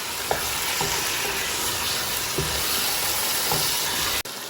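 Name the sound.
chicken frying and being stirred in a pan on medium-high heat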